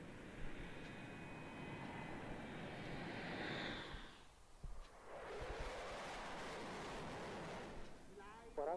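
Aircraft engine noise building into a broadband roar as the plane starts its takeoff roll, fading briefly before the rumble swells again, with radio chatter between pilot and tower layered over it.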